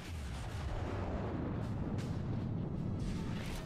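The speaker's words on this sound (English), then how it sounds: "I'm firing AP, because my guns are quite big, I should be able to penetrate that thing" Large naval guns firing armour-piercing shells in the World of Warships video game, deep rumbling artillery booms rolling one into another, heavy and continuous with no talk.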